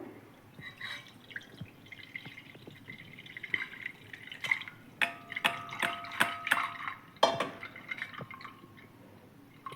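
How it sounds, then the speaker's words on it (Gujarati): Fennel sherbet pressed through a strainer into the same pot, giving a run of clustered drips and trickles with small glassy splashes that thicken into quick bursts midway, close and soft, with no voices. "વરિયાળીનું શરબત ગાળી લઈશું"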